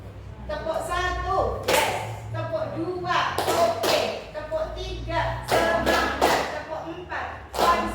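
A seated audience at a teachers' training session clapping in patterned counts, sharp bursts of claps alternating with a presenter's talking, mid-distance in a room.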